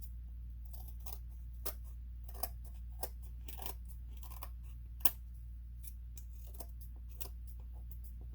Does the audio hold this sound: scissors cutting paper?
yes